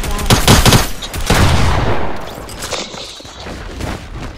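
Rapid bursts of automatic gunfire from a video game, loud and dense in the first half and then thinning into scattered shots over a fading rumble, with no talking.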